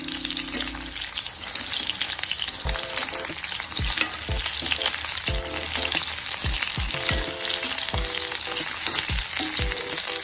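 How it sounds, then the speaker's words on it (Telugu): Chopped okra sizzles steadily in one to two spoons of oil in a kadai over a medium flame. A loud, continuous frying hiss runs throughout, broken by repeated clinks and scrapes from stirring. "ఇది మీడియం ఫ్లేమ్లో పెట్టుకొని వేయించుకోవాలి"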